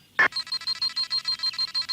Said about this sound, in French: Le signal d'alarme?